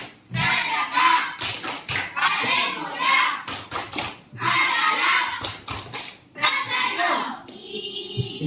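A classroom of children performing a rhythmic group clapping chant, sharp bursts of unison claps and slaps alternating with chanted syllables, loud and close with brief pauses between phrases.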